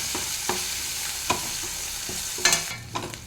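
Sliced onions for a chicken curry sizzle steadily in hot oil while a spoon stirs them, with sharp scraping knocks against the pan at irregular intervals and no talking.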